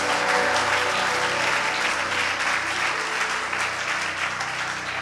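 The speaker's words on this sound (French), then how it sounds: "Acclame le Seigneur, bien-aimé." A church congregation applauds during a French-language worship service, a dense, sustained clapping that fills the room evenly from start to finish without pause.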